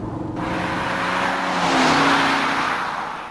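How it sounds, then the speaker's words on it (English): Car with a Ford AODE automatic transmission accelerating at three-quarter throttle, engine note rising steadily through upshifts, loud and continuous from start to end with no talking. "try some upshifts at 3/4 throttle to feel the new firmness"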